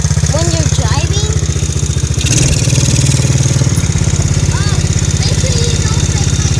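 A dirt bike engine runs steadily and loudly close by, a continuous low throbbing drone throughout, with children talking over it in an outdoor riding setting.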